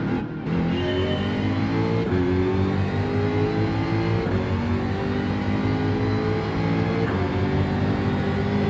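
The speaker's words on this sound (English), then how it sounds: "Honda NSX, not the best acceleration." A Honda NSX engine revs and accelerates at a sports-car event, the steady mid-pitched drone climbing loud and continuous with brief shifts between gears.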